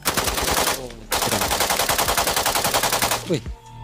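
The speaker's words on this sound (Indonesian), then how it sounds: "KBZ 97 mampu menyemburkan peluru hingga 800 peluru per menit dengan kecepatan 930 meter per detik" A KBZ 97 bullpup assault rifle fires in automatic mode, one short burst followed by a longer rapid stream of evenly spaced loud shots that cuts off abruptly.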